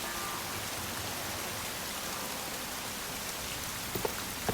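Steady rain pours in the video game Wild Hearts, a dense, even hiss of drops hitting surfaces that holds at a constant level throughout, with a couple of faint ticks near the end.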